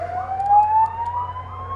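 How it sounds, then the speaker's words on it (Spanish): An ambulance siren blares loudly outside, its rising and falling wail sounding close and steady with nothing else over it. "Está sonando una ambulancia ahí a tope, tío."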